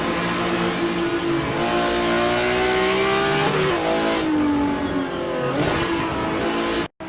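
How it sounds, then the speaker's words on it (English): Number 0 BMW M1 Group 5 race car in a virtual historic sportscar race at Road Atlanta, its engine roaring loud and close as it revs up and down through the gears, with a brief tire squeal before a sudden cutoff near the end. "Now on board with Ross Smith, driving the number 0 BMW M1 Group 5."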